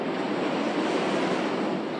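Rain pours hard and steadily, a dense even roar of falling water with no breaks, loud and close for the whole stretch.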